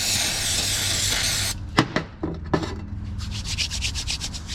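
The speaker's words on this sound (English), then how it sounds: "wash your hands thoroughly with carb cleaner" Hands scrubbed with carburetor cleaner during Harley clutch work: a steady close rubbing and scrubbing, then a few sharp knocks and a burst of rapid, hissy pulses near the end.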